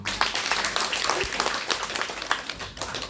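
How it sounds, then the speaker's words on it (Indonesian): An audience at a church seminar claps together, a scattered burst of applause that carries on for a few seconds with a voice faintly underneath. "Tepuk tangan dong."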